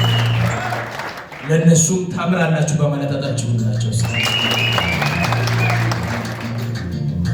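Wedding guests break into applause, a burst of clapping that swells and carries on beneath a man's amplified speech over a low musical hum.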